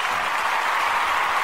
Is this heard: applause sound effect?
yes